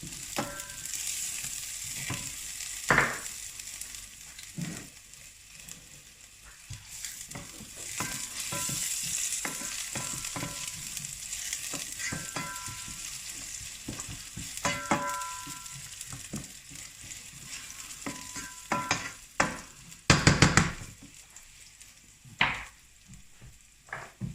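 Garlic fries in a pan with a continuous crackling sizzle, broken by repeated sharp clicks and scrapes of stirring against the pan, and a louder flurry of clatter toward the end; no one speaks.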